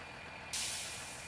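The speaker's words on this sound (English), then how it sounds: "which is where you would hear the sound of air, really." A bus air brake lets out a sudden loud burst of hissing air that starts abruptly and holds steady, slowly fading, against a low idling background.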